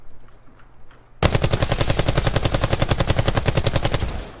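Vapor automatic gun in the Blackout video game firing one sustained burst after a quiet moment, rapid evenly spaced shots ringing out close and loud for about three seconds before trailing off.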